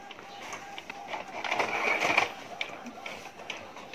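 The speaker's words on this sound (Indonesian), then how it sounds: "Oh, ayan, yung printer, oh. Busy yung printer." A busy printer printing learning modules whirs and clacks faintly at a distance, rising to a louder mechanical rush in the middle before settling back.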